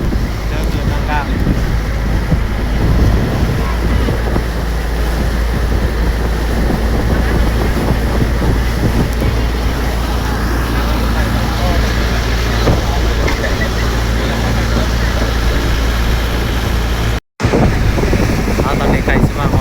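Steady wind buffets the microphone on a boat ride across a wide river, the low rumble of the boat and water running continuously and loudly throughout, with only a very brief dropout near the end and no clear talk.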